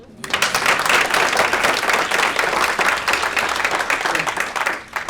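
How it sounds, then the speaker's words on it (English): A conference audience at a youth leadership masterclass bursts into loud, dense applause that holds steady for several seconds before tapering off, with no talking over it. "I think we can clap again"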